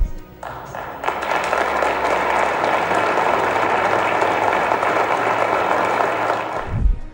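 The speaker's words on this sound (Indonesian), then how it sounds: "Ketum Gerindra ini mendapat tepuk tangan meriah dari para hadirin." Parliament members in Turkey's assembly hall give Prabowo sustained, loud applause, a dense wash of clapping that swells in quickly and holds steady for several seconds before cutting off.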